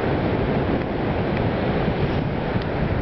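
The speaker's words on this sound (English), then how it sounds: "Yeah, it's windy." Steady wind buffets the microphone outdoors at Rosarito Beach at sunset, a constant low roar with faint surf underneath and no voices.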